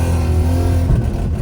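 A loud car engine drones steadily from inside the vehicle, deep and rumbling, with a slight change in pitch near the end.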